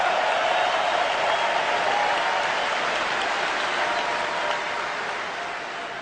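Arena crowd at an NHL Canucks–Oilers game cheering and applauding for former Oiler Rusty Patenaude, a dense, steady roar that holds loud throughout and eases slightly near the end.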